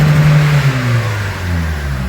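Toyota Camry engine, just cleared of a fuel rail pressure sensor fault, revs up steadily, a loud continuous mid-pitched drone that rises and falls slightly with no talking over it.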